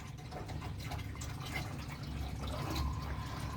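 Water is poured into a cooking pot holding browned meat for a spinach stew, a steady, fairly quiet splashing fill with a low background hum and no talking.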